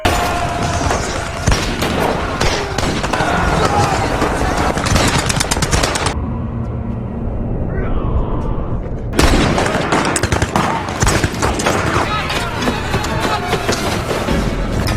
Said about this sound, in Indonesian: baku tembak sengit pun pecah